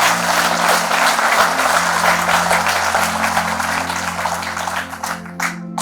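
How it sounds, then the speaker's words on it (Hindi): A crowd applauds loudly and steadily for several seconds, the clapping thinning out toward the end, with a low hum underneath. "एक बार जोरदार तालियां आप अपने लिए बजाएं"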